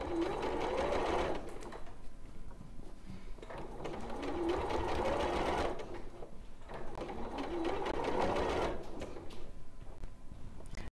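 A sewing machine stitches fur fabric in three long runs of steady rapid whirring, each separated by a brief pause, close and clear with no talk.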